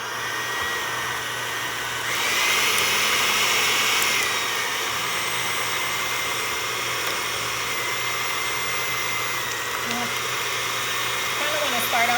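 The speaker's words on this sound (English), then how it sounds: "I'm just gonna blend this on high, so bear with the noise because it's gonna be a little bit loud." Pancake crepe batter for chocolate brownie crepes whirring in a blender on high speed, a loud, steady motor drone that holds unbroken for about twelve seconds with no voices over it.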